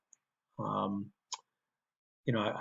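A single sharp computer mouse click comes between short stretches of a person talking, close and quiet.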